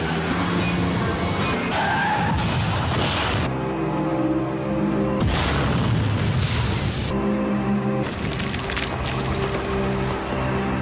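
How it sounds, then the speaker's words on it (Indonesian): A car is struck from behind by a truck and bursts into flames, with loud continuous crashing, roaring and booming noise running throughout and heavy blasts recurring in waves. "sebuah truk menghantam dari belakang. Mobil pun kemudian meledak dalam kobaran api."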